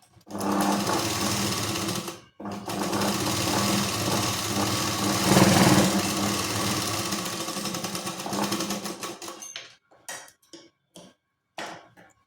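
A sewing machine stitches a katori blouse in long, loud continuous runs with a brief pause, then ends in short stop-start bursts of stitching near the end.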